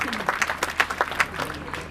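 Children at a school gathering clap to welcome guests, a brief spell of distinct, unevenly spaced claps with some murmuring voices underneath.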